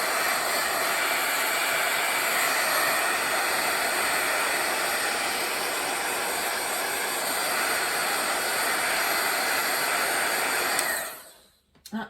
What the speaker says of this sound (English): sorry for the heat tool